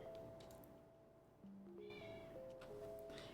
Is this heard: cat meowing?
yes